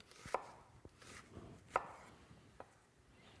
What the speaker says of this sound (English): I come through the onion, but not through this tail part.